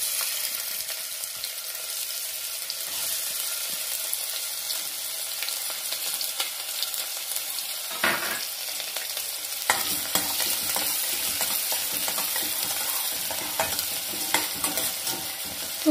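Onions frying with garam masala in a pan for soya pulao: a dense, steady sizzle with constant scraping from stirring, briefly dipping around the middle before growing busier and louder, with no talking.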